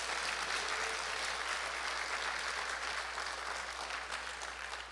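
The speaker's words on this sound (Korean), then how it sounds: "박수." A church congregation applauds during a sermon, producing a continuous, even wave of clapping with no pauses and a low steady hum underneath.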